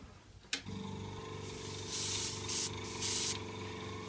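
Spray paint hisses from a can onto a 1/24 scale diorama, a sharp click and then a continuous close hiss lasting several seconds, with brief louder bursts.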